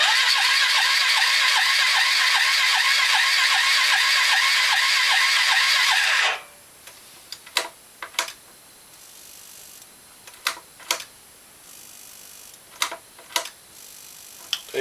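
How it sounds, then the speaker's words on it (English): A Honda Foreman Rubicon ATV starter cranks the engine loudly and steadily with a rapid, slightly rough whirring pulse for about six seconds, then cuts off, leaving faint clicks and ticks. "The starter sounds a little rough on it."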